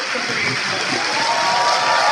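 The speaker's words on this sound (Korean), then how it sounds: "더불어민주당 30년 선배 당원 정신 안희정 수당 교수장님께 큰 박수" Audience applause at a Democratic Party of Korea new-member academy event, greeting Ahn Hee-jung: steady, dense clapping that holds at an even level for about two seconds with no pauses.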